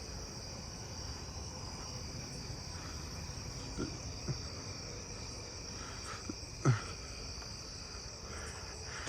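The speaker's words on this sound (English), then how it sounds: "I hear a broadwing tree cricket somewhere" A broadwing tree cricket trills steadily and faintly at a distance in a neighbourhood at night, an unbroken insect drone with a few soft knocks and rustles nearby.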